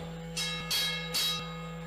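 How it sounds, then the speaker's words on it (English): A wrestling ring bell at a championship triple threat match rings three times in even succession, each clang bright and ringing briefly over a quiet hum. "So, ladies and gentlemen, ring that bell."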